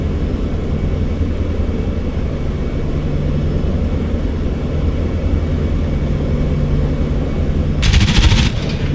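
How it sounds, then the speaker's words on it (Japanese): A P-47D Thunderbolt in the DCS flight game fires a short, rapid machine-gun burst near the end, cutting through a steady, loud engine drone that fills the whole stretch. "狙いを定め、2秒間のバースト射撃を行います。"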